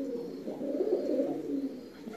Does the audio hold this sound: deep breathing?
no